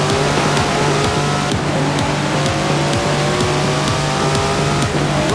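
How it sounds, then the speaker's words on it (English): An upgraded Datsun's engine in the racing game Forza Horizon 4, a loud, continuous rasping drone that climbs in pitch through the gears as it accelerates, with no voices. "Never heard a Datsun sound like that, have you?"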